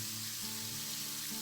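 Pork simmering in a pot for ginataang langka, jackfruit cooked with coconut milk, giving a steady close bubbling sizzle with soft hiss and a low tonal hum underneath, continuous and quiet.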